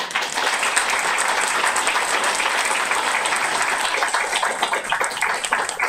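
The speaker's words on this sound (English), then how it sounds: "Round of applause for Leslie Ortega." Audience applause at a poetry reading during a fundraiser event, a steady, full crowd clapping that lasts several seconds at an even level.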